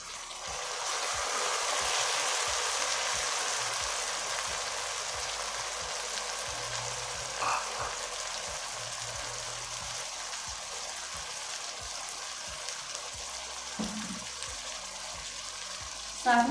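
Half a kilo of tomatoes goes into a hot pan for an okra and bitter gourd dish, giving a steady broad sizzle that fades slightly over time, with scattered clicks and a faint voice.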